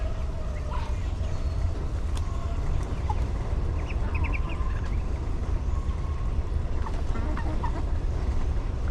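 Backyard chickens cluck and squawk in scattered, faint calls over a constant loud outdoor rumble, with no talking.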